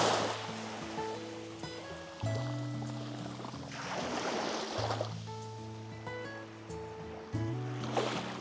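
Ocean waves wash onto the beach at Los Cabos at dawn, swelling and receding in soft rushing surges beneath steady background music.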